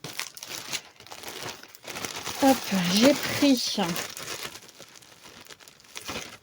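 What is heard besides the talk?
unwrapping packaging of a K-pop Demon Hunter keychain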